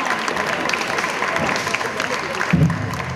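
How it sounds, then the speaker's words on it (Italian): Applause from the audience at a singing academy's gala evening, a steady wash of clapping for a singer being introduced, with some crowd noise and a voice briefly over it near the end. "Un applauso."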